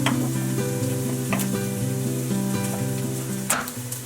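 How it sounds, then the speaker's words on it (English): Chanterelle mushrooms sizzle and fry steadily in a pot, a close, continuous crackle with occasional sharper pops and light stirring, no voices over it. "I'm also going to saute the mushrooms first so that I can cook everything in the same pot."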